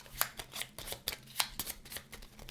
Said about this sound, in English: You're going to then want to take your wonder cards. We're going to give them a shuffle